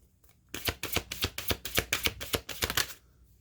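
A deck of Moonology oracle cards is shuffled close up: a quick burst of about a dozen crisp, rhythmic riffling snaps lasting a couple of seconds, preceded and followed by near silence.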